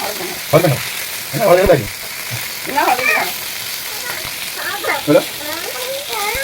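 Bursts of sizzling from food frying in a pan in a home kitchen, crackling rising and falling in short waves while a voice chatters nearby.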